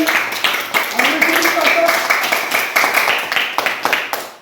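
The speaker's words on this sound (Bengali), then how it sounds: "পার্থদের জন্য একটা হাততালি দিই সবাই" A group of people clapping their hands together in quick, uneven rhythm, fairly close and loud, with voices talking and calling out over the clapping throughout.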